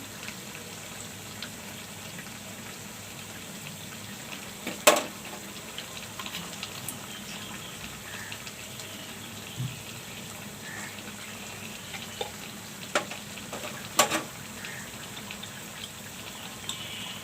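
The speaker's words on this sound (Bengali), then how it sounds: "এখন এখানে একটু সামান্য পরিমাণ একটু কেওড়ার জল দিয়ে দিচ্ছি" A small splash of kewra water is poured into a simmering meat and potato curry, giving a faint, steady watery hiss broken by a few sharp clinks, with no talking.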